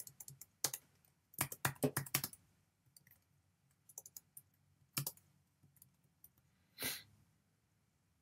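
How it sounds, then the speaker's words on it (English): A computer keyboard is typed on in quick, close, clicky bursts separated by pauses, fairly quiet overall, with a soft breath near the end. "Let's actually type something in here."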